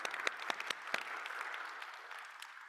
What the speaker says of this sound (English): Let's do another midpoint round of applause.